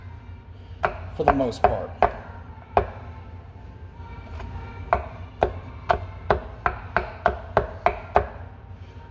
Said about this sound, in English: cut it up real fine, try not to cut your freaking fingers like I am